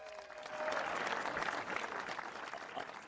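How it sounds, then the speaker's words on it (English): Audience applause rings out for a women's gold-medal trophy winner at a PPA pro pickleball tournament, the Carvana Desert Ridge Open, a steady wash of clapping from a crowd that holds for the full three seconds at moderate distance. "Let's give her a round of applause, everybody."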